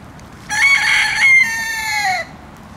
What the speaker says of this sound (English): And the cockerel.